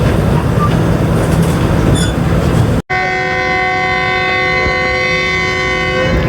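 A Fareed Express train pulling out, its loud steady rumble of moving wagons giving way after a brief break to sustained, layered tonal squeal from wheels and brakes, with no one talking.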